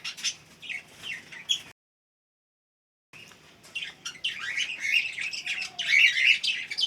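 Cockatiel chicks in a nest give high, thin chirps in busy overlapping bursts, close by, with a brief silent gap before the chirping grows louder and denser.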